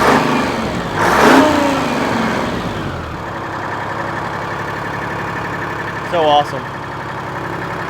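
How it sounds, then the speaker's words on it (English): An old 1983 grain truck engine idles with a low rumble, then briefly revs up near the close, with a person speaking over it early on. "These things will idle so low. You gotta be careful because we rev it up too much, it might try to run away."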